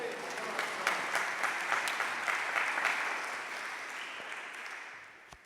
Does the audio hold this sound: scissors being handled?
no